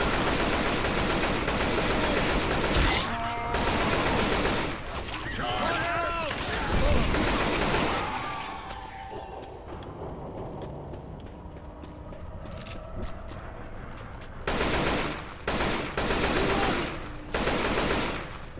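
Gunfire in the zombie shooter Left 4 Dead on PC, dense bursts and cracks of shots filling most of the stretch, dropping back and returning in sharp clusters near the end, mixed with game noise and chatter.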